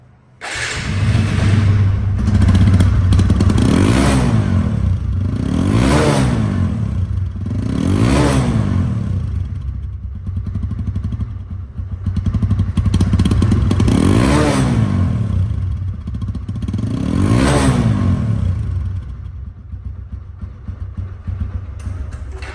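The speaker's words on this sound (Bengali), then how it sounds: "এই বাইকটি এখন দামে আসবো তার আগে স্টার্ট করে শোনাবো যে সাউন্ড কোয়ালিটি কেমন আছে" A TVS Apache RTR 160 motorcycle engine runs loud and close, idling with a thumping beat and revved repeatedly in swelling bursts before settling back.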